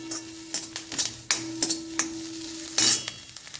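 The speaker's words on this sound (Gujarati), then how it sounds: "બટર નાખીને મેં આ વેજીટેબલ્સ જે લીધા હતા તે સાંતળવા મૂકી દીધા છે" Mixed vegetables sauté in butter in a pan for Mexican rice, giving a low steady sizzle with repeated clinks and scrapes of a spoon stirring, close by and moderately loud, with no talking.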